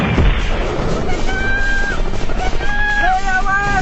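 Gunfire and explosive crashes sound in a dense, loud battle scene from an animated war cartoon, mixed with shouting voices and a whistling tone.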